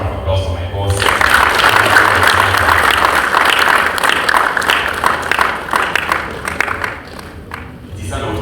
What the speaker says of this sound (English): better round of applause for my boss.